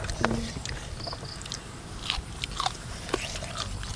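Sharp, brittle crunches of someone biting and chewing crispy pork rinds close to the mic, several irregular bites over a quiet background.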